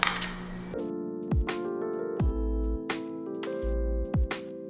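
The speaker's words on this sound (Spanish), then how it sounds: "aquí en este vaso vamos a hacer como una pastita con 1 cucharada de café y 1 de azúcar" A metal spoon clinks against a glass while a spoonful of coffee and one of sugar go in, several bright, ringing taps spaced out, close and fairly loud.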